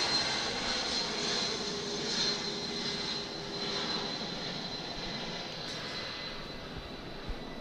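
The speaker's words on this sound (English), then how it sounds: "And that plane is so low." A low-flying airplane passes overhead, its engine a sustained droning roar with a steady whine, fairly loud and continuous for several seconds, no voices over it.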